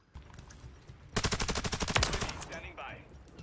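Rapid automatic gunfire from a weapon in Modern Warfare 3 (Search and Destroy or Rebirth modes): a steady burst of about a dozen loud, evenly spaced shots lasting roughly a second and a half, then fading game ambience.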